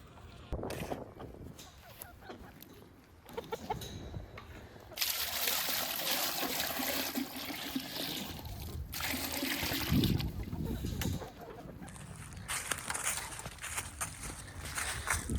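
Cold well water is poured out for chickens on a small farm, heard as splashing, trickling bursts with pauses between them and some handling noise around the pours.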